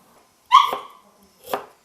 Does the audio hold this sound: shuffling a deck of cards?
no